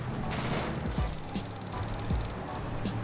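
Gang members fire a stun gun in GTA V. Repeated sharp shots and zapping bursts sound under a noisy, busy game background, with several distinct hits spaced through the action.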